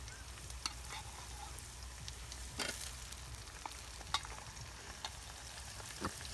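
Tomatoes frying in a pan while batata poha is cooked, giving a steady soft sizzle with scattered pops and a few sharper clicks of stirring, quiet and continuous throughout.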